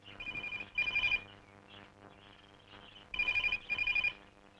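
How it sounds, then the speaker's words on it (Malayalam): A telephone rings in repeated bursts, two rings, a pause, then two more, fairly quiet with faint background sound between. "മോളെ നിനക്കൊരു ഫോൺ."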